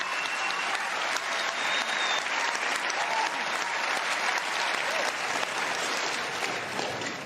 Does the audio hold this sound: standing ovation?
yes